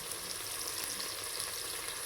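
Onions and peppers sizzle and crackle steadily in a pot while cooking a Ghanaian recipe, a close, even frying hiss with no talk.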